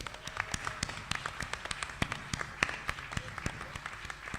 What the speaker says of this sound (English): Let's have a round of applause for Les as well.